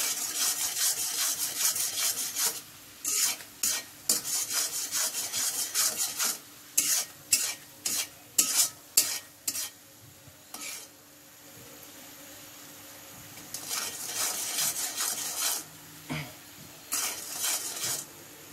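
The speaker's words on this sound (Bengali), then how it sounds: "চিনিটা গলে যখন এরকম ফেনা হতে শুরু হবে" Sugar melts and foams in a pan, with a spoon scraping and stirring in quick repeated strokes over a soft sizzle and a quieter pause in the middle; nobody speaks.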